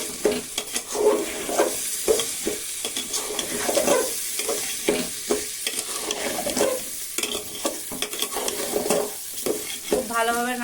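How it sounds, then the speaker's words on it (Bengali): Pilaf (polao) with cashews and raisins being stirred as it fries in a pan, a steady sizzle broken by repeated scraping strokes of the spoon at a fairly even rhythm, close and clear with no talk. "ভালোভাবে নাড়িয়ে নিতে হবে"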